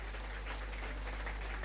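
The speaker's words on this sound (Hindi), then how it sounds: "एक बार इन सभी कैडेट्स के लिए जोरदार तालियां" Applause from a parade ground crowd for passing-out U.P. Police cadets in Lucknow: a steady, dense wash of clapping that holds at an even, fairly faint level throughout, with no voices standing out.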